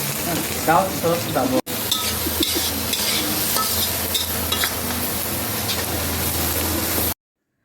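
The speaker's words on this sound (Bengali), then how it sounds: "তারপর এক এক করে মশলা দিয়ে ডিম ভুনাটা করে নিলাম" Eggs fry with spices in a hot pan, sizzling and spattering with brief stirring scrapes, a steady frying hiss close by that cuts off abruptly near the end.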